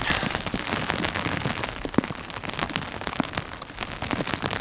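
Rain falls on a hike on Mount Laguna, a dense, steady patter of drops striking nearby surfaces with scattered sharper taps, close and continuous.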